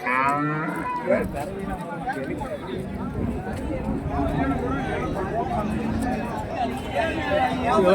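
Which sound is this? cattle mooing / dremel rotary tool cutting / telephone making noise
cattle mooing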